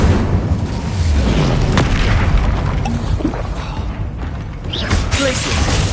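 Fiery spell blasts in Hogwarts Legacy combat, a loud rumbling whoosh and boom with popping bursts over dense game noise and a faint voice, sustained across the whole stretch.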